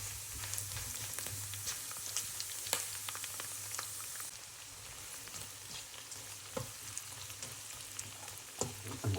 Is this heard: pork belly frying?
yes